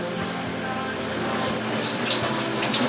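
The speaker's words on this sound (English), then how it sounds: "Rinse and rice, strain it a little bit." Rice is rinsed under a running kitchen tap, a steady close splashing gush of water with small sloshing shifts as the grains are stirred, loud and continuous with no talk.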